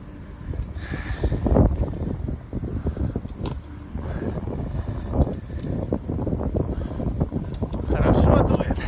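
Steady wind gusting and roaring at the top of the mast of the tall sailing ship Kruzenshtern, swelling and easing in loud broadband buffeting that fills the whole clip, with no voices.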